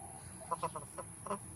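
Several short clucks from roosters close by, a quick series of throaty bursts with a faint steady hum behind them.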